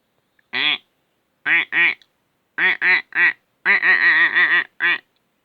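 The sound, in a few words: voice imitating a duck quacking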